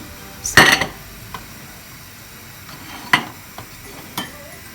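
While egg fried rice is served up, metal pots and cutlery clatter nearby in a few sharp, separate clanks. One loud clash opens the sequence, followed by lighter taps and knocks.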